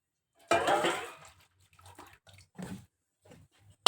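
Whey from homemade paneer is poured off in a short splashing gush, then trickles and drips quietly in a few small bursts.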